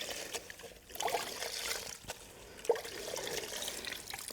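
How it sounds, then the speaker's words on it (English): Water squeezed out of a soaking wet wash sponge behind the license plate of a Ford Bronco Sport during a rinseless wash, faint trickling and dribbling in short bursts, quiet and close, no talk. "left the sponge extra wet and just squeezed it out around there"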